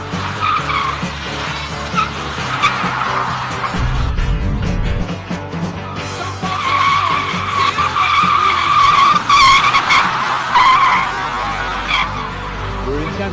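Yangwang U9 electric supercar, rated at 1300 horsepower, drifting on a Jiangsu track with loud, sustained tire squeal and skidding that swells and fades across the run, with occupants' voices heard now and then over it.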